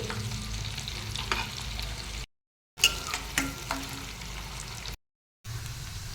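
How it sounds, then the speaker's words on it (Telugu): Sliced onions and curry leaves fry in hot oil as a tempering, a soft close sizzle with occasional stirring clinks, cut by two brief silent gaps. "ఉల్లిపాయలు వేసుకొని వేగనివ్వాలి అందులో కొంచెం కరివేపాకు కూడా వేసుకొని వేగనివ్వాలి"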